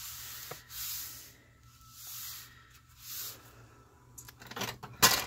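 Paper being folded for a ring binder journal, with soft rubbing and sliding swells recurring about once a second, then a sharper crackle and crease near the end, close and quiet, no talking.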